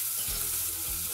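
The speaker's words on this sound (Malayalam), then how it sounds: "ഇളക്കിയിട്ട് തീ കുറച്ച് വെച്ചിട്ട് നമ്മൾ മൂടി വെച്ചിട്ട് ഇടയ്ക്ക് ഇളക്കി കൊടുത്തിട്ടാണിത് വേവിച്ചെടുക്കേണ്ടത്." Bitter gourd curry sizzles steadily in a pan, a continuous frying hiss with a couple of soft scraping stirs close by.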